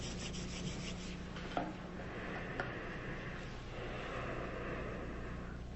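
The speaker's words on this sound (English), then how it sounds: "Now rub your hands" Palms rub briskly together in a quiet room during an eye yoga exercise, giving a faint, continuous dry friction that stays steady for several seconds without speech.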